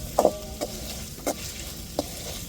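Ginger, garlic and green chili fry in a pan under a steady low sizzle, with several distinct spoon scrapes and taps of stirring spaced through it, close and fairly quiet.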